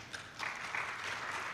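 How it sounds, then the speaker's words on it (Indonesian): Audience applause at a geoscience festival leaders' panel talk show, a moderate, steady wash of clapping that swells after a brief softer start and continues evenly without talk. "Rekan-rekan tepuk tangan dulu dong."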